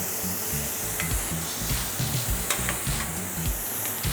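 Onions and green pepper frying in a pan while crayfish thermidor is prepared, giving a continuous close hiss and sizzle with scraping, stirring clatter and a low rumble underneath, and no voices.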